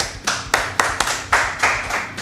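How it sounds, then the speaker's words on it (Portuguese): Applause for the leaders, a few close hands clapping in an uneven, sparse rhythm, crisp and fairly loud with no talking. "uma salva de palmas para os nossos líderes"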